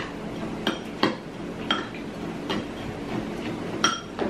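A utensil mixes cayenne pepper into a calamari coating in a bowl, making light, irregular clinks and taps against the dish over a soft background hiss, with no voices.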